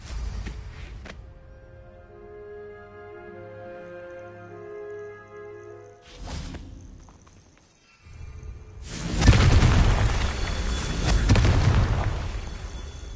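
The Confringo fire spell in the video game Hogwarts Legacy goes off, with a short burst and then a heavy, rumbling blast that rises over a tonal hum and holds for several seconds.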